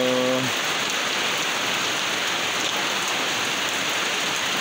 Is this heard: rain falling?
yes